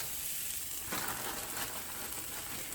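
Carrots drop into a pan of sautéed onions over medium heat for Russian borscht, and a faint, even sizzle swells slightly as they land, then holds steady without speech.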